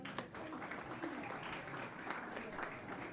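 Audience clapping at a full board meeting, a steady wash of applause at moderate level lasting throughout, with faint voices mixed in.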